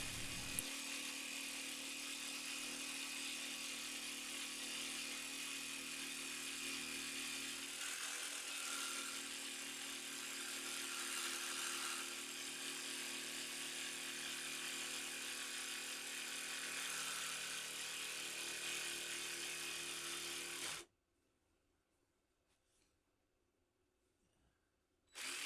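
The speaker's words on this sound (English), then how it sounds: "the only tool that I have that kind of makes sense is the jigsaw" A jigsaw cuts wooden grab rails for a boat in a long, steady, buzzing run that stops abruptly near the end, leaving quiet.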